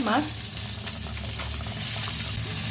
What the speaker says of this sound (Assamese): মাছ অলমষ্ট ফ্ৰাই হৈ গৈছে মোৰ, ইয়াতে দি দিম এতিয়া মাছখিনি।